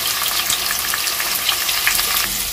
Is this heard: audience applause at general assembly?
no